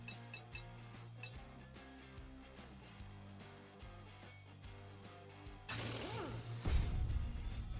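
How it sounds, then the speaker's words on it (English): Golden wrench ratcheting in the Super Toy Cars Offroad video game, a few quick clicks followed by a steady mechanical gear-like clicking, then a louder burst of clinking and whooshing near the end. "What if I use the golden wrench on it?"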